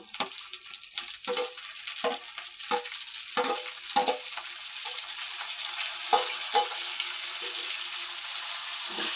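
Curry leaves fry in hot oil in a pan with a steady, close sizzle, broken by repeated scraping stirs, and no one speaks.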